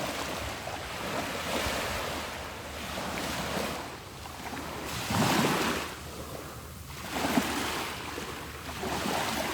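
Ocean waves washing ashore, a continuous rushing surf that swells and recedes in a few broad surges, with gusty wind buffeting the microphone.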